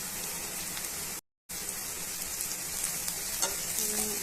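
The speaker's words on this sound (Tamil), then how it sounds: "வெங்காயம் இந்த அளவுக்கு வதங்கினா போதும். இப்போ நம்ம மிளகாத்தூள் சேர்த்துக்கலாம்." Onions fry in a pan with chili powder for a Kerala-style cassava snack, a steady close sizzle that cuts out for a moment and then resumes, with faint stirring scrapes near the end.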